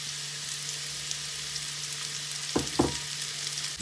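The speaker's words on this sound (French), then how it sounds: "Dans un fond d'huile d'olive que j'ai mis à chauffer à feu vif, je mets mes morceaux de bolet." Porcini mushroom pieces frying in olive oil heated over high flame, a steady close sizzle with two sharp bursts of crackling as pieces hit the pan, no voices.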